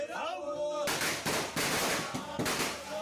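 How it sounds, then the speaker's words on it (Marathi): Firecrackers burst at a village Tulsi Vivah celebration, a rapid series of sharp cracks and pops following a brief stretch of background noise, loud and close. "हे बघा फटाके अतिशय सुंदर फुटत असतात"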